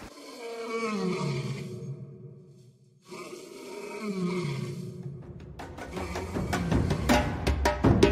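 A lion roars at dawn in Niokolo-Koba park, Senegal, in long, deep, groaning calls, two drawn-out roars followed by a rapid series of shorter grunting bursts, loud and close.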